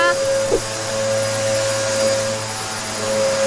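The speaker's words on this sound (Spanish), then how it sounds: "estaba ahí con la aspiradora" A vacuum cleaner runs steadily in a house in a Spanish village, giving a constant loud droning whine with a fixed tonal hum and no breaks throughout.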